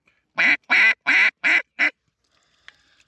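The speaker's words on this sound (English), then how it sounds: "From top to bottom, from feed chuckle to greeting call to hail call to comeback call." Hunting duck call blown in five loud raspy quacks in quick succession, close and alone, followed by near silence with a faint click.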